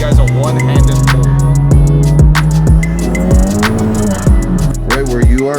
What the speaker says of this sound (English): Hey, your wheel's making noise.